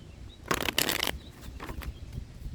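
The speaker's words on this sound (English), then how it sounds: "Let's give this a couple quick shuffles." Tarot cards are shuffled up close in two quick papery riffle bursts, followed by a few softer, scattered card flicks.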